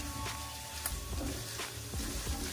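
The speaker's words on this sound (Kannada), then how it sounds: "ಸೊ 1 ನಿಮಿಷ ಹೀಗೆ ಫ್ರೈ ಮಾಡ್ಕೊಂಡ್ರೆ ಸಾಕು." Roasted gram frying in a pan for a makhana and poha snack mix, a soft continuous sizzle with faint scrapes of stirring.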